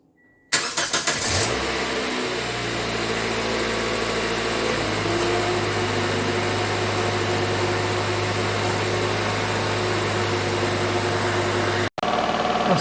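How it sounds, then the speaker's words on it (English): A 2005 Toyota Corolla 1.8 engine cranks and catches, then settles into a steady, close idle with a constant low hum that continues to the end. "as the engine is running, you want to make sure that there's no leaks"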